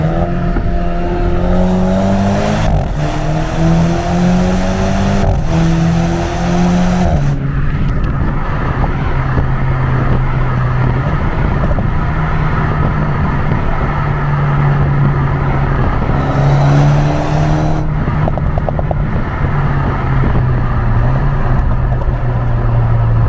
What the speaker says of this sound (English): It's fun to listen to that exhaust.